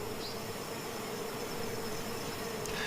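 Steady, dense buzzing of many bees fills the air, a continuous drone with no voices.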